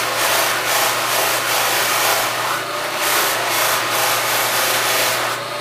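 A tobacco pipe being buffed to a shine on a buffing wheel gives a loud, continuous whirring rub with a steady motor hum, no talking.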